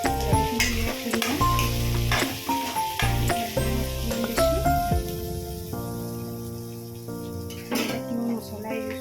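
Food sizzles in a pan after turmeric and salt go in, a close, continuous frying hiss with clattering stirs and a faint hum of talk in places.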